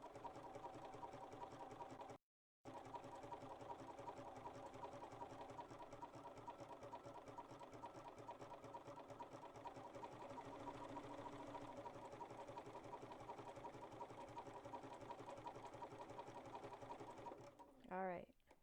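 A Bernina sewing machine stitches a satin-stitch appliqué with a steady, fast mechanical whir that runs almost without pause, then briefly slows near the end.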